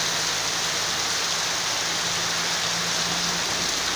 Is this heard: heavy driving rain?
yes